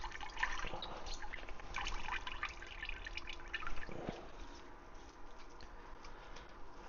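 Warm water drips and trickles irregularly while a Nash Solutions filter is rinsed, with quiet close splashes and small ticking drops and a slightly louder splash partway through.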